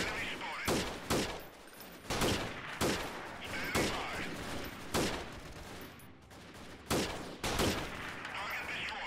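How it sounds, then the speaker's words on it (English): Sniper rifle fire in the Freeman: Guerrilla Warfare video game, during an assault on a town. Sharp, loud shots repeat at roughly one-second intervals, some in quick pairs, over a steady background. "that sniper sounds badass"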